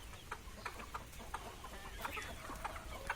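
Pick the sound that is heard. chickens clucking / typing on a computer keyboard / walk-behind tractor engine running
chickens clucking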